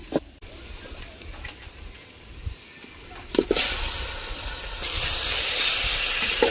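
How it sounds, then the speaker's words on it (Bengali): A quiet kitchen background suddenly gives way to a loud, sustained hiss as goat meat sizzles in hot spiced oil, continuing steadily to the end. "এবার ধুয়ে রাখা খাসির মাংস আমি মশলার ভিতরে দিয়ে দেবো"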